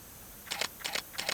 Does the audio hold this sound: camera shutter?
yes